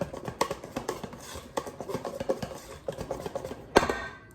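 Vanilla is stirred into pancake batter for blueberry pancakes, with a utensil clinking and scraping against the bowl in quick, uneven strokes and one sharper knock near the end.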